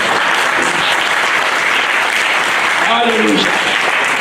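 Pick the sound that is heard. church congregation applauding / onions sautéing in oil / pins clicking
church congregation applauding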